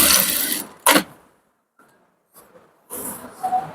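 A sewing machine stitches elastic onto a pair of ladies' pants in short close bursts: a longer run, a brief second burst, then a quiet pause before stitching resumes.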